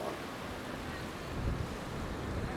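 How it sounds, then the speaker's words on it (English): Ocean waves break and wash onto Jetty Beach at Port Canaveral, Florida, a steady roaring surf with wind buffeting the microphone and a swell of louder crashing midway, no speech over it. "if you like waves, this beach has a lot of waves."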